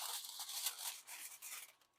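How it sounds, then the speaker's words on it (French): Sheet of aluminium foil being pulled over and crimped around a baking dish of enchiladas, a continuous crinkly rustle with sharper crackles lasting about two seconds, fairly quiet and close, with no talking. "on va couvrir ça avec une feuille de papier aluminium"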